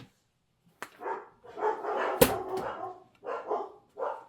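Dogs bark in several short, separate bursts at moderate distance, with brief pauses between volleys and no talking.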